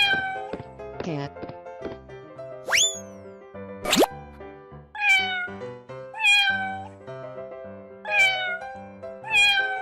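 A cat meows repeatedly in a cartoonish animal-crossing game, the meows mixed with bouncy plops, boings and a plinking musical backing.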